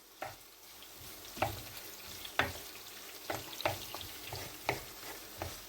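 Chopped hot chili pepper fries in a pan, sizzling steadily with a run of sharp stirring clacks and scrapes spaced a second or so apart, close and fairly loud, with no voices.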